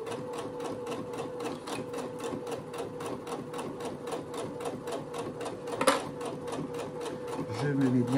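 A sewing machine stitches a fabric phone pouch, running forward then reversing to lock the seam with a fast, even rhythm of needle strokes close by, and a brief clack near the end.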